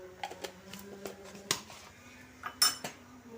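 A metal spoon clinks against a pot as ghee is added to sweet pulao, several light, close taps and scrapes spaced irregularly, with one brighter ringing clink near the end.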